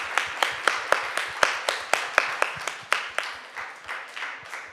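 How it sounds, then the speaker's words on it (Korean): At a church youth Sunday service, a crowd claps in a steady, even beat of sharp hand claps that carries on for several seconds, with faint murmuring underneath. "우리 뜨거운 박수 한번 부탁드립니다"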